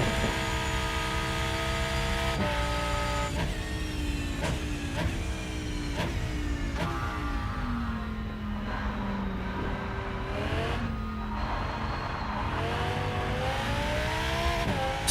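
An Audi race car engine in the Rennsport racing game wails steadily at high revs, its pitch climbing through each gear and dropping sharply with quick shifts and lifts under braking, loud and close throughout with no talking.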